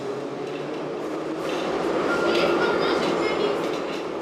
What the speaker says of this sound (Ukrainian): Стіни здригаються, коли повз проходять поїзди метро.